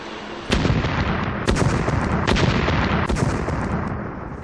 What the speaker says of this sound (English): it is routinely shattered by the sound of explosions